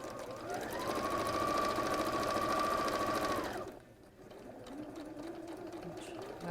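Sewing machine running steadily for about three and a half seconds while stitching a quarter-inch seam on quilt pieces, then stopping, followed by quieter handling sounds and faint talk.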